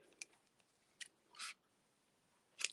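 A few sharp scissor snips cut through craft material, quiet and close, spaced irregularly with near silence between them.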